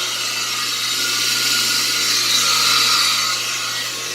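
A repaired Emerald Bay hot tub pump runs during a test, giving a loud, steady, broadband whooshing roar with a constant low hum beneath it, close by and with no talk.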